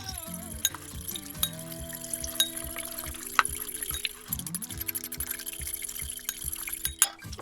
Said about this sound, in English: Tiny bit of water, and you want to really whip this up.